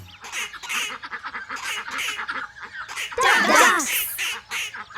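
A group of farm ducks quacks in quick repeated bursts, close and fairly loud, with a denser, louder run of calls toward the end.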